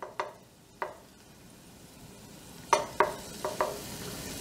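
Garlic bubbles gently in oil over low heat, a faint steady sizzle broken by several soft clicks and stirring taps, close by with no talking.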